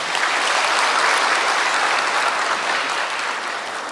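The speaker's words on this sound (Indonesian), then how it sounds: "berikan tepuk tangan" Dense, even applause from an audience at an Indonesian religious talk fills the whole stretch without pause, loud and close, tapering only slightly at the end.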